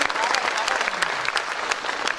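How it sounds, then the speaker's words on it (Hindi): An audience at a Hindi poetry stage event breaks into steady, dense applause, a short continuous burst of many hands clapping at moderate distance. "एक बार आपकी तालियां मुझे अनुमति दें कि मैं गीत पढ़ सकूं।"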